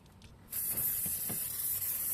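A Cotora spray polish can, used on motorcycle parts, fires through its nozzle after a moment of quiet, giving a loud, continuous close hiss that holds steady to the end.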